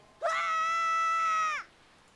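A video game character's scream in The Legend of Zelda: The Wind Waker HD, a single sustained, piercing high-pitched cry lasting just over a second, rising sharply and then cutting off, heard alone.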